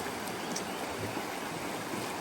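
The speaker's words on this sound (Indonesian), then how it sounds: "Ini namanya Sungai Ciujung." Steady broadband rush of the Ciujung river flowing on a trek to Baduy Luar, a constant near wash of moving water with no talk over it.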